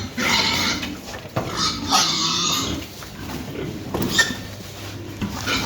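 Pigs are driven out of their pen, with grunting, squealing and shuffling mixed with clattering bangs of boards and gates, while people can be heard moving and calling nearby.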